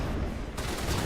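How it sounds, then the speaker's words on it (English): Sniper rifle fire in the Mass Effect game, on the Insanity difficulty, heard as a dense burst of loud, close shots and booming blasts filling the whole moment with no talking. "this sniper rifle fucking kicks"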